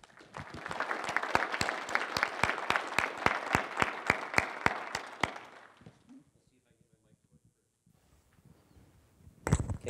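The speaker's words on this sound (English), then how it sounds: "Matt, let's give him a welcome round of applause." A welcome round of applause from the audience at a governor's agricultural summit, brisk clapping for about five seconds that fades out, followed by a quiet pause, a brief voice and a thump near the end.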